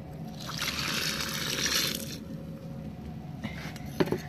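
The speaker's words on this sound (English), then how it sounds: "I'm going to pour our pre-spray into this bucket." Carpet cleaning pre-spray solution being poured into a bucket, a steady liquid stream for about two seconds followed by quieter trickles and a small clunk, fairly close.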